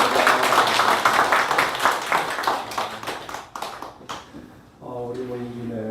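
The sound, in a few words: applause for the speaker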